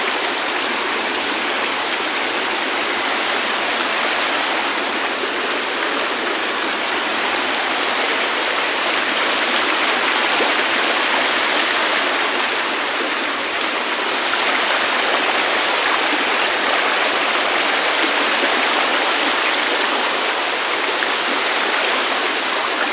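River water at the confluence of two rivers rushes in a steady, dense, loud flow that holds unchanged throughout, with no voices.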